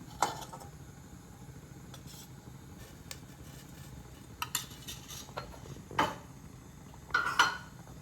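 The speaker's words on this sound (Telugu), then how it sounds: "రెండు మూడు స్పూన్లు నెయ్యి వేస్తున్నాను" Spoonfuls of ghee go into a pan on the stove for Pongal, with sporadic metallic clinks of a spoon against the cookware, a few sharper taps toward the end over a quiet room hum.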